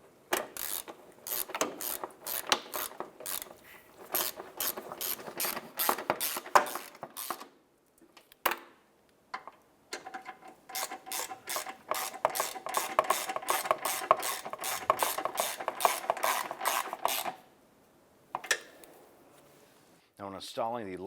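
Ratchet tightening bolts on a 2011-2019 Ford Fiesta during knock sensor work, with rapid close clicking bursts in several runs separated by pauses, and a voice briefly at the end.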